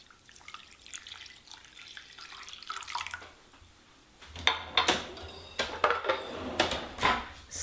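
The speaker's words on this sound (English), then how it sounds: "I'm gonna pour in this warm water." Warm water pours into a bowl of yeast and is stirred, with splashing and clinking against the bowl that grow louder and busier in the second half.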